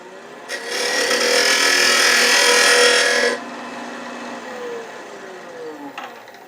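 A wood lathe cuts a tenon on a wooden tulip blank. A close, loud, steady scraping and whirring cut lasts about three seconds and then drops to the quieter hum of the spinning lathe.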